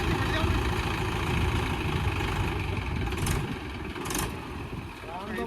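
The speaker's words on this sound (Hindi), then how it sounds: "महिंद्रा का 575 कैसा खींच रहा है" A Mahindra 575 tractor engine labours off-road in a thick, continuous roar, loud and close, easing slightly near the end.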